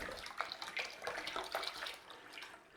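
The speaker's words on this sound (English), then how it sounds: "So we want a couple of cups of water in there" Water runs into a cooking pot for a couple of cups' worth, a continuous splashing pour of moderate loudness with brief gurgles and no speech.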